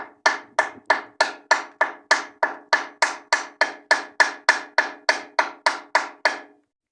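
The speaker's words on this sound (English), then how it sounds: "I got to clean it up probably with a little pick and a hammer to get the pieces out" Steady hammer-and-pick chipping of welding slag, the melted flux crust, off steel on a door jamb: about twenty sharp metallic taps at an even, brisk rhythm, close and loud, with no talking.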